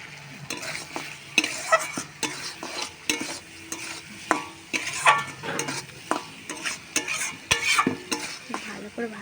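Fish roe fries in oil as a spatula scrapes and stirs the pan in repeated bursts over a continuous sizzle, close and clear, with no talking.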